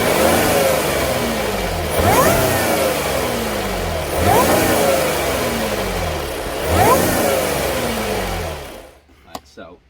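Stock-intake Audi S5 engine revving hard in four repeated sweeps, each rising and falling in pitch, loud and close, with the engine then cutting off near the end.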